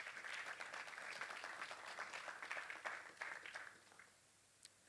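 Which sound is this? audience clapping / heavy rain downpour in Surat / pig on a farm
audience clapping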